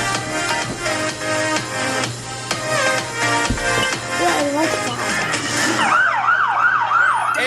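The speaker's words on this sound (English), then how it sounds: "Ambulances raced through the streets of Lebanon on Tuesday" Ambulance sirens wail through the streets of Lebanon in a news report. A rising and falling siren sweeps loudly near the end, over busy street commotion and mixed background sound.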